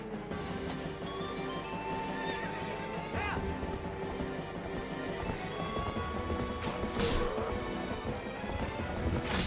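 A horse gallops in the Zelda Twilight Princess video game, with steady clip-clopping hooves and neighs over continuous game music and effects, plus occasional crashing impacts.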